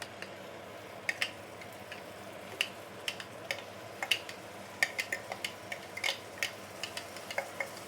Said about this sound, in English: We shall saute this chili paste for probably about 3 to 5 minutes